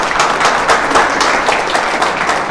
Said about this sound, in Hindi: और इनके लिए एक बार जोरदार तालियां।